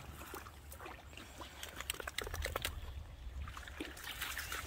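A basset hound wading and moving through river water on a hot day, giving soft trickling splashes and sloshing that swell midway, continuous and fairly close, with no talking.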